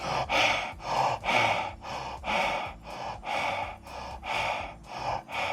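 Heavy breaths blown onto the sensor of a Blackview W50 Pro smartwatch, close and loud, roughly seven to eight rhythmic inhale-exhale cycles in a steady pattern.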